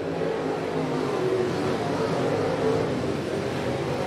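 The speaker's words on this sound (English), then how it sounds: "We'll get back to green flag racing here off of turn number 4. They pick up the RPMs." Pro late model race cars rev up together on a green flag restart off turn four at Jacksonville Speedway, a broad, continuous engine roar heard at some distance and swelling slightly, with a commentator's voice faintly underneath.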